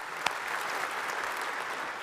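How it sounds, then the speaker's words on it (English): Audience applause at a university class of 2021 commencement ceremony, a steady, fairly faint wash of clapping from a crowd that holds evenly for about two seconds. "You deserve a round of applause."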